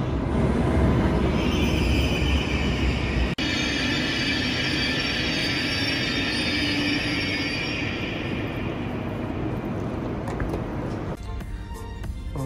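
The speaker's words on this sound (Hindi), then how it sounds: "फाइनली हमारी जो ट्रेन है वो आ चुकी है और अब हम इसमें जाएंगे" A train pulls into a station platform in Germany, bound for Cologne: a loud, steady rumble with high wheel and brake squeal that holds for about eleven seconds, then drops away into quieter clatter.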